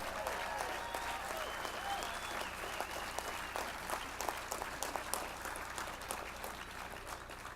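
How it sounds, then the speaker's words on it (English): An audience at a fundraising auction event gives a sustained round of applause, a dense, continuous patter of many hands with a few faint voices mixed underneath. "Give a round of applause for that."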